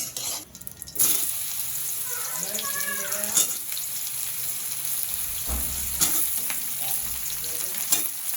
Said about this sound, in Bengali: এখানে কড়াইতে দেওয়া হলো জিরে ফোড়ন